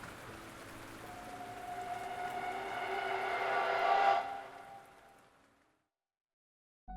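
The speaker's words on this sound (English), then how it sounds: "it rained in a continuous downpour" A continuous downpour of heavy rain pours steadily, swelling gradually louder before cutting off and fading into silence.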